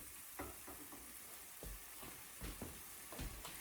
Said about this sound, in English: So that is how you brown hamburger